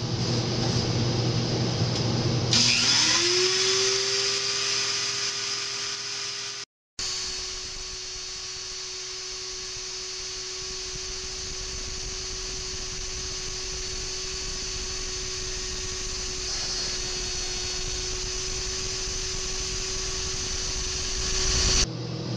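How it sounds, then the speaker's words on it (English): A harsh, steady grinding whine from a power tool grinding guitar neck wood runs continuously for about twenty seconds, with one brief cutout near the middle. "So let's go ahead and start grinding this out, and of course this is where it gets noisy."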